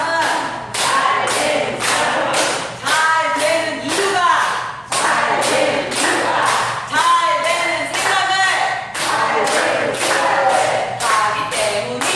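An audience at a leadership training session claps in rhythmic bursts while chanting along together, loud and close, the group voices and repeated hand claps running throughout.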